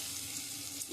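Mashed tomato hits hot oil for a village-style tomato chokha, giving a steady, close sizzle with no talking.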